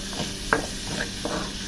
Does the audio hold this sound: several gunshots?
no